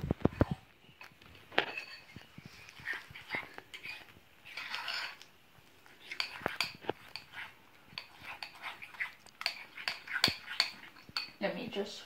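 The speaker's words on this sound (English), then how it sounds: "Now I'm just going to use my fork and mix it up." A fork clinking and scraping against a bowl while mixing gluten-free, dairy-free banana crumpet batter, irregular metallic taps and stirring scrapes close up, with quiet talk between the strokes.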